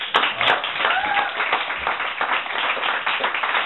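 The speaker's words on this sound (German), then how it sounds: "Applaus für den Paul!" An audience at a live concert in a small venue claps for a saxophone player, a steady dense burst of applause that holds throughout, with faint voices mixed underneath.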